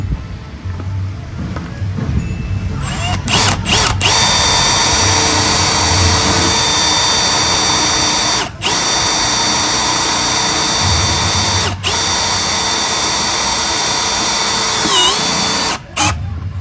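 A Milwaukee 2804-20 cordless drill drives metal screws with a loud, close, high-pitched motor whine that holds steady for long stretches, broken by a few brief stops and restarts.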